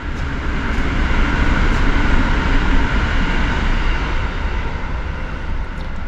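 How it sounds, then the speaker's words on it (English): A train passing near a home garage, a continuous loud broadband rumble and roar that stays steady throughout, with no voices over it. "There's that train."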